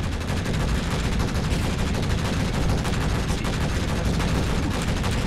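Sustained rapid gunfire at turrets in Space Engineers, a dense, continuous roar of automatic shots filling the whole stretch, loud and close with no pauses or voices.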